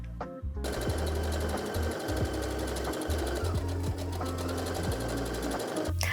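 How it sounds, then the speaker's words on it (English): A sewing machine runs continuously, its needle hammering in a fast, even rhythm as it stitches the side and shoulder seams of a garment, loud and close with a brief pause at the start. "sew exactly where I'm pointing, down the sides, under the sleeves,"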